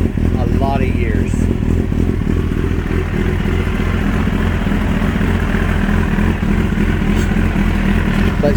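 A Kawasaki ZX9 motorcycle engine with a patched exhaust pipe runs loud and close, a steady throbbing idle with a rough rhythmic pulse throughout, and a voice talking over it.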